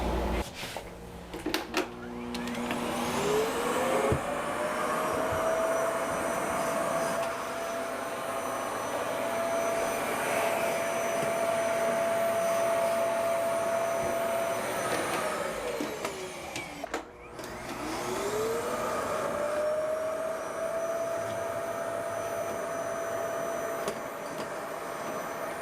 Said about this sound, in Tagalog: Binigyan ako ng bagong vacuum.